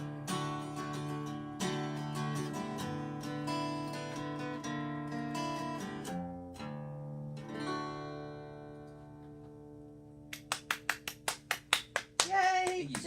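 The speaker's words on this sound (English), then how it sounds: "Jackie clapping along with the large crowd that we have in the audience" A large audience at a music show claps along while a song with sustained tones plays, the claps arriving as an even, quickening burst of sharp hand strikes near the end over the music.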